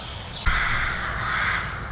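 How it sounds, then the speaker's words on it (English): Crows and rooks caw loudly in a wood, a harsh call rising suddenly and holding over a steady background hiss. "Definitely an alarm clock when the crows and the rooks start blatting away."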